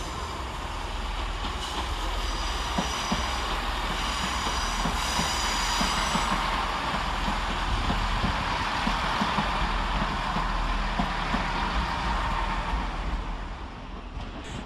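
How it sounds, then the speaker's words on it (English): Great Western Railway unit 165104 pulls into Redhill station, a loud, steady rumble of wheels and engine with thin squealing tones from the rails, close by throughout and fading slightly at the end. "Arriving to terminate with the Great Western Railway service off Reading is"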